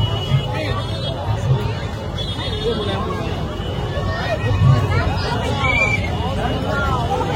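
A dense crowd at the Rath Yatra chariot festival in Puri fills the air with steady, close babble and shouting, while a person talks over the din.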